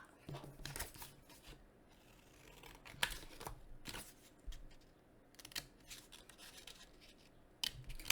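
Scissors snip through paper, cutting out rectangles for a handmade rocking horse toy; quiet, irregular clicks and crisp cuts come in short bursts over a soft background hiss.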